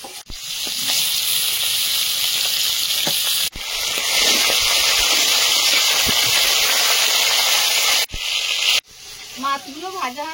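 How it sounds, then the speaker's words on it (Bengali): Dried fish (shutki) fries in oil in a pan with a loud, constant hissing sizzle, briefly interrupted twice, then some clattering and faint voices near the end. "শুটকি মাছটা ভাজতে দেবো।"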